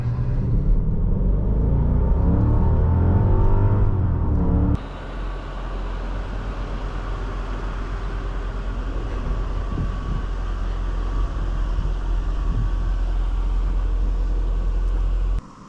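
A 2001 Mercedes-Benz S55 AMG with 87,000 miles drives and accelerates hard from inside the cabin, its loud engine roar rising steadily, then dropping after a sharp shift into a continuous heavy rumble with road noise throughout.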